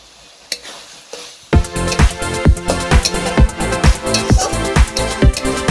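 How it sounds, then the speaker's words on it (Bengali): Boiled potatoes fried and stirred in a pan for a jackfruit and potato curry: after a quiet start, loud rhythmic scraping strokes of the spoon over a steady sizzle, close up. "আলুটা ভালো করে কষিয়ে নেওয়া হয়ে গেছে"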